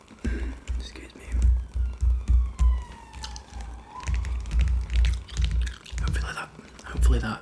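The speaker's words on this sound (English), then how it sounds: "Hopefully that police car wasn't too loud." A police car siren wails past outside, a faint descending tone rising and falling behind close soft-spoken talk and rhythmic gum chewing indoors.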